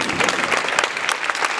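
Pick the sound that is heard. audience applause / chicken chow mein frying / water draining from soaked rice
audience applause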